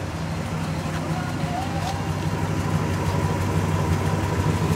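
A stock 1966 Pontiac GTO convertible's Tri Power V8 idles quietly and evenly, a smooth low steady rumble heard close up with no talking over it.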